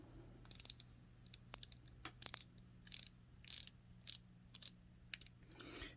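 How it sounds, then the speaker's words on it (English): The bezel of a Seiko Tuna dive watch, a 1975 diver recreation, clicks as it is turned, giving roughly ten crisp ratcheting snaps in short bursts, close and quiet against a faint background hum. "So let's take a listen to the bezel action."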